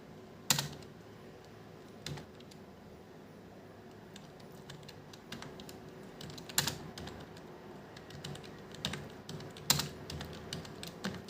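Scattered, fairly quiet keystrokes sound on a computer keyboard as Hindi text is typed in Mangal Inscript layout, with sharp isolated clicks spread over a long stretch of soft room hiss.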